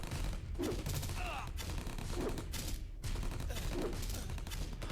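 Rapid gunfire crackles during a battle against a tank in the video game Age of War 2, with dense, steady volleys of shots continuing throughout, loud and close.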